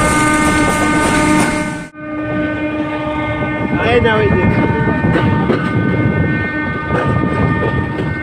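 A passenger train running on a rail journey in Bangladesh, rumbling and clattering along the tracks with steady rhythmic wheel noise, loud and close from onboard, with a brief voice heard over it.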